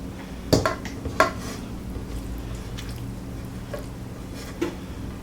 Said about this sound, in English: Scrape all that goodness out of the pan into your mixing bowl.